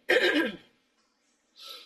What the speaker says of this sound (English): I'm sorry, excuse my cough